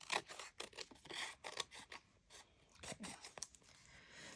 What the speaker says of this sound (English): I'm going to trim this end of it because there's a little extra there